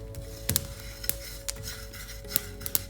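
Sesame seeds dry-roast in a pan while being stirred, a soft continuous crackle broken by sharp clinks and scrapes of a utensil against the pan, close, with a steady low hum and no speech.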